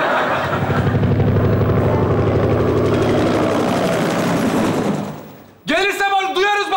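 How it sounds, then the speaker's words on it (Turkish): A helicopter's thudding rotor and engine rumble fill the space loudly and steadily, then cut off abruptly as a voice speaks over the end. "Helikopter geldi mi diyorum."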